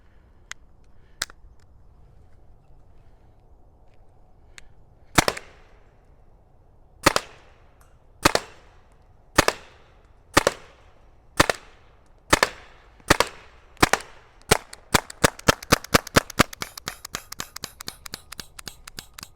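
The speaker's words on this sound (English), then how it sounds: "I'm gonna test it shooting jewel projectiles. It's shooting 280 right now." A Valken M17 paintball marker firing jewel projectiles at about 280 fps: sharp, close single pops spaced a second or so apart, then speeding into a rapid string of shots at the end.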